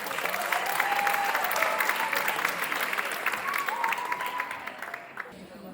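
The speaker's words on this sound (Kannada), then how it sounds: "ನಮ್ಮ ಈ ತಂಡವನ್ನು ವೇದಿಕೆಯ ಮೇಲೆ ಜೋರಾದ ಚಪ್ಪಾಳೆಯೊಂದಿಗೆ ಆಹ್ವಾನಿಸೋಣ" An audience applauds at a stage event to welcome a comedy drama troupe, steady dense clapping from a crowd that stays loud for several seconds and then tapers off at the end.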